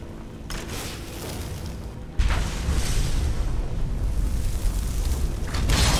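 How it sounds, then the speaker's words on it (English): Fire Atronach explosions in Skyrim: a dull, steady rumbling roar that jumps to a louder, heavier boom-like rush about two seconds in and stays loud until the end, with no voices. "The explosions of the Fire Atronach should deal quite a bit of damage to him."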